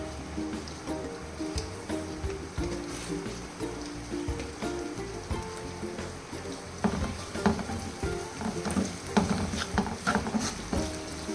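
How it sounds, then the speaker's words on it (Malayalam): Onions sauté in a pan with garlic chicken roast ingredients, giving a soft steady sizzle with occasional scraping stirs, close but fairly quiet. "golden colour brown ആകുന്നവരെ വഴറ്റണം"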